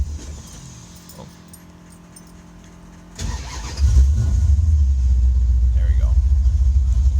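A 1980 Plymouth Volare sedan cranks and catches at about three seconds, then settles into a loud, steady low idle, with someone speaking briefly over the engine noise.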